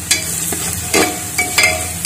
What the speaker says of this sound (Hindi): अब इसको घुमाएंगे